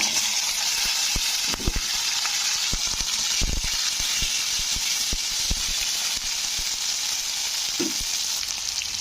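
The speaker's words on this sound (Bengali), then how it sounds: "ঢ্যাঁড়সগুলো তেলে ভালো করে একটু ভেজে নিতে হবে" Okra sizzles and crackles in hot oil, a steady frying hiss with occasional stirring clinks and pops, close by and without talk.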